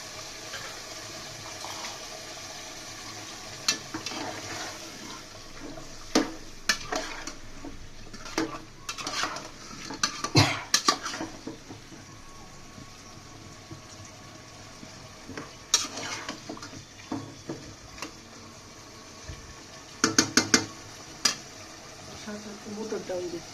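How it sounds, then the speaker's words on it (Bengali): Meat poured into a pan of fried spice masala while cooking, giving soft sizzling with scattered clattering and stirring bursts, fairly quiet and close, with someone talking at times. "মাংসগুলো ঢেলে দিচ্ছি"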